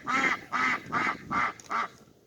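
A duck quacks five times in an even, steady rhythm, each call loud, nasal and close by, with short gaps between them and no talking.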